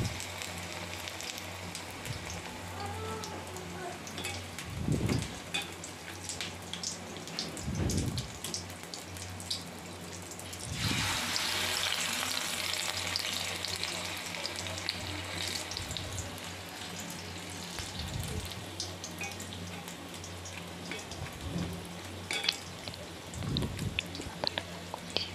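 Whole bitter gourd leaves coated in batter fry in hot oil, giving a steady watery crackle with a louder, brighter burst of sizzling midway and a few soft low knocks throughout.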